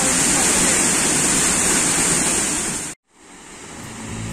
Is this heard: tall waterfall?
yes